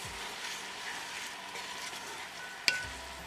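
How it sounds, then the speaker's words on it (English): Chopped onion sizzles steadily in hot vegetable oil on a gas stove, with faint scraping as it is stirred and one sharp clink of utensil near the end; no voices. "As the oil start to heat up, add onion."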